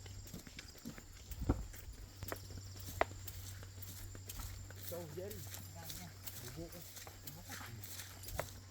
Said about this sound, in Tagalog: Ito oh, kabayo.